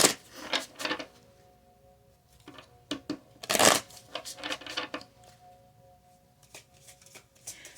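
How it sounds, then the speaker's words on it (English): Tarot cards are shuffled and pulled by hand in quick, crisp riffling bursts, one sharp flurry standing out midway among lighter flicks and taps, close and fairly quiet with no voices. "Let me go ahead and pull other cards just to clarify these energies."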